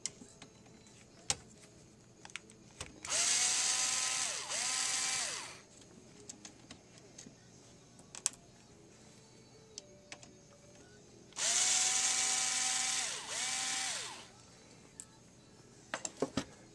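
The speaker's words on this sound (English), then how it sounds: "next we're going to be taking the screws out" Screws are driven out of a Samsung CLP-315W printer with a cordless power screwdriver, two steady whirring bursts of about two seconds each separated by quiet pauses and small clicks, up close with no speech.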